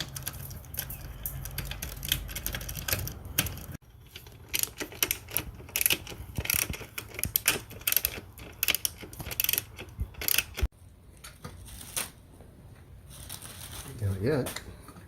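A 13mm socket on a hand ratchet works loose a seat bolt on a 2023 Mazda MX-5 ND2, giving bursts of quick, close clicking and mechanical rattling with brief pauses between them.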